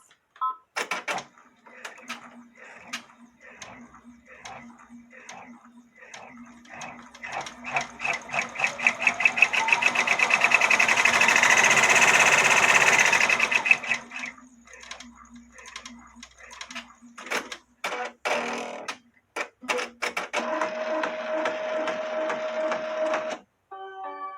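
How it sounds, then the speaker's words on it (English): An embroidery sewing machine runs a tack-down stitch on an appliqué on a bodysuit, a rapid mechanical stitching chatter that builds to a loud steady whir mid-clip, then breaks into shorter bursts of stitching. "then we'll do the tack down stitch to tack the fabric in place"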